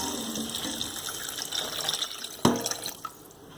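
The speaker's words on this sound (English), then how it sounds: "I'm just going to cover it with water." Water from a seasoning pan poured over browned cowfoot for a Jamaican-style cowfoot and broad bean dish, a steady close splashing trickle ending in one louder splash and a few drips.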